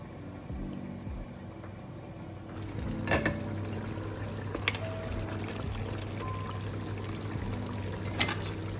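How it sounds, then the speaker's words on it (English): Half a cup of water poured into a pot of lamb yakhni pulao with meat and onions, a soft low pouring trickle with a few clinks from the pot, fairly quiet and close. "So you've added in half a cup of water."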